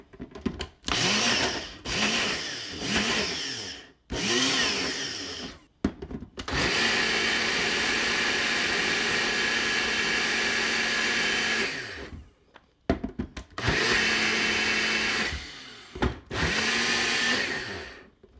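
A Ninja blender purees sweet potato in loud whirring bursts, stopping and restarting several times with one long continuous run in the middle.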